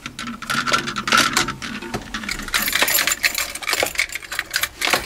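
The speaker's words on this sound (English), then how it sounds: "what was all that rattling?" A 2014 Jeep rattles with dense metallic clattering and jingling, loud and close, rising and falling irregularly throughout.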